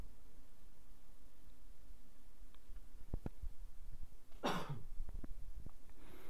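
Man who is unwell coughing while giving a stock market analysis: one close, harsh cough burst after a few seconds of quiet room hiss and light clicks, followed by a few soft throat and mouth sounds.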